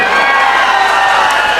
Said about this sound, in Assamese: হাত চাপৰি বাজিছে অকণ